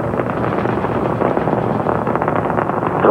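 Space Shuttle Discovery's main engines roar through a launch in 1989, a steady, loud, broadband rumble with no pauses or talk.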